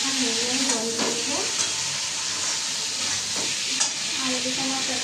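Potatoes and onion frying in a pan, a steady hissing sizzle with a few scraping stirs, close and moderately loud, with no talk over it.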